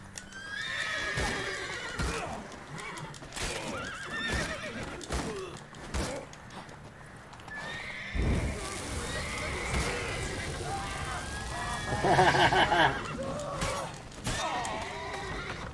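Horse neighs and whinnies with clip-clopping hooves amid busy sounds from The Witcher 3: Blood and Wine, with scattered crashes and a brief voice now and then.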